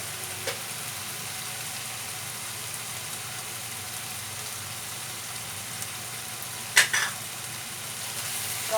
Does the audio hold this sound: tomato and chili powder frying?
yes